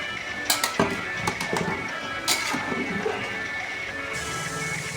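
A spoon scrapes and clinks against a cooking pot as thick, boiling farm-style mutton curry is stirred, with sharp metallic taps over a steady bubbling background.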